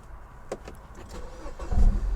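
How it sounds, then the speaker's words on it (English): A 2016 Mini Cooper S Countryman ALL4 starts by keyless push-button, with a few faint clicks before the engine catches and settles into a low idle close by. "So I wonder if this car has keyless start."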